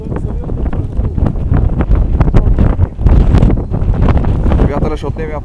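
Strong gusty winter wind in Stara Zagora, Bulgaria buffets the microphone in loud, rough blasts, with indistinct voices mixed in.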